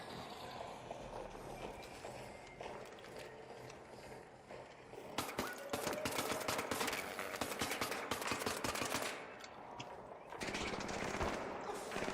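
Gunfire in the ARC Raiders video game: rapid bursts of automatic shots, dense and sustained, growing louder and busier midway with brief pauses, no talk over it.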